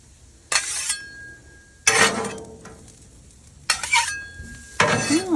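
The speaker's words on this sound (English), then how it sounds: "We'll stir them as we get them over there." Mushrooms stirred on a Blackstone griddle: four loud bursts of metal spatula scraping and clinking over a quieter sizzle between them.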